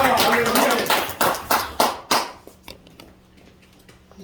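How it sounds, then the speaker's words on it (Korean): A church congregation claps at a New Year's service, first a dense burst of applause, then a few loud, separate unison claps at a steady beat before fading into a quiet room. "다시 한번 박수로 하나님"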